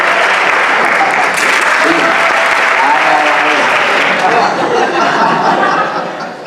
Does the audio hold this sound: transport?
no